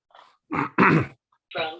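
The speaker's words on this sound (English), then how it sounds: "I still have a cough and all that" A few close, harsh coughs in quick succession, throaty and rough, separated by short pauses.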